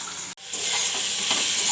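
Food fries in a pan in a home kitchen, a steady close hiss of sizzling oil that cuts out for an instant near the start and then runs on evenly, with no one speaking.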